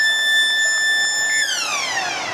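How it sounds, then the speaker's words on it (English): At a St Helens versus Wigan rugby league match, the half-time siren sounds as a steady piercing tone before sliding downward in pitch as it winds off, loud over crowd noise. "Half-time siren goes,"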